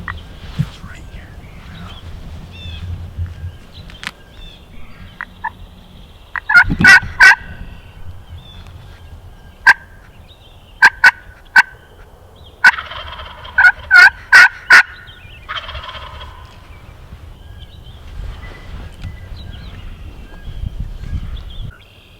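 A wild turkey gobbles repeatedly in a Wisconsin public-land field during spring season, with loud bursts at intervals and faint spitting sounds between them, as hunters whisper nearby.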